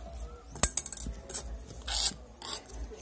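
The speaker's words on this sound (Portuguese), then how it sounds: "Vou misturar aqui um potinho de terra" Potting soil being mixed by hand in a small pot, giving soft scraping and gritty rubbing with a few sharp clinks near the start, close and fairly quiet.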